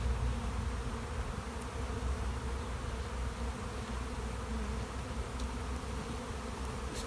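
Honey bees drone continuously around a hive during installation of overwintered nucs, a dense, close, steady buzz with no talking.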